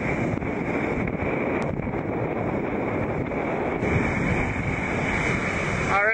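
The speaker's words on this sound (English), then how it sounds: "a very nice day of sailing in the Southern Ocean" A sailing yacht out in the Southern Ocean gives a steady, loud roar of wind buffeting the microphone over rushing waves and water, continuous and unbroken throughout.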